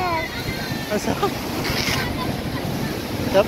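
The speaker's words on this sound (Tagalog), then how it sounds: "Sarap ng alon." Ocean surf washes and churns with wind buffeting the microphone, while voices talk and shout faintly in Filipino over the steady rush of water.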